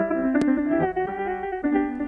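Short passage of an AI-generated song re-rendered with piano as the lead instrument, sustained harmonic tones with a sharp click near the start and no voices.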